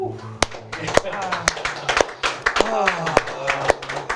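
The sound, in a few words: collective slow clap from the audience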